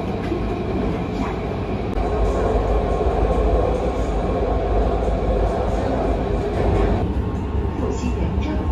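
A Nanchang Metro Line 2 subway train runs with a loud, continuous rumble and rattle of wheels on track, steady throughout, with voices faintly present under the noise.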